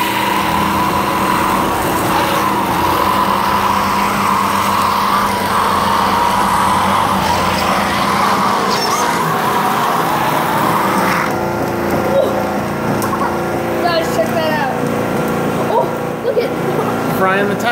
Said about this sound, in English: Frying the tires off.